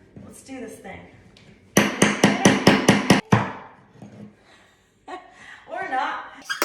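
A child's toy hammer striking repeatedly on floor prep work, a run of about seven quick, sharp, even blows in the middle, with a person talking before and after.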